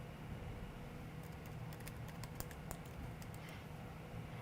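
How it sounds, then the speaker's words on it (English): Quick bursts of typing on a computer keyboard, a cluster of light clicking keystrokes in the middle over a steady background hum, fairly faint and with no voices. "I can just type hummingbird"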